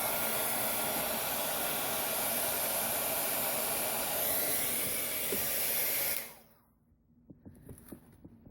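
A heat embossing tool blows steadily on glycerin-thickened matte medium with a loud, close, hissing rush for about six seconds, then switches off, leaving a few faint clicks and handling sounds.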